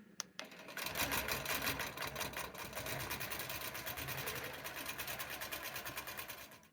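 A longarm quilting machine stitches binding onto a quilt, a fast, rapid needle rhythm running steadily and close after a brief start, then easing toward the end, with no talking.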